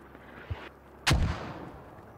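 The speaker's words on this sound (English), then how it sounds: "Well, that's not us thumping mortars, so... That's enemy mortars." A single enemy mortar round lands in the Squad video game, a heavy booming thump with a short rumbling tail after a small earlier knock, heard at a moderate distance with no talk.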